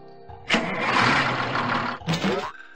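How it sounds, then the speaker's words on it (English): A toddler train puzzle game plays a short cartoon construction engine effect: a mechanical engine start-up that chugs for about a second and a half, then a brief second burst. "Construction engine."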